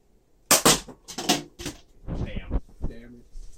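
A toy gun fires during a shooting challenge, giving two or three sharp cracking pops close by, followed by excited voices talking and shouting.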